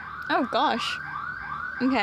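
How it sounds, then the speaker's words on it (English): A wailing alarm siren rises and falls in the background across the whole stretch, with a short burst of hiss midway, while someone briefly speaks over it. "Sorry if you can hear an alarm in the background."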